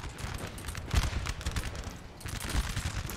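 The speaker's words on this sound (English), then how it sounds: "This artillery is still not really... I think it's hitting this building." Artillery fire in the Napoleon: Total War video game, a battlefield rumble of distant cannon booms and crackling volleys with a couple of heavier thumps standing out, heard alone.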